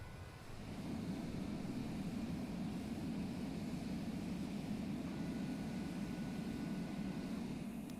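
Steady low roar of a Boeing 737 rolling out on landing with thrust reversers in Microsoft Flight Simulator 2020, a constant broadband engine rumble swelling in and holding, distant-sounding and without speech.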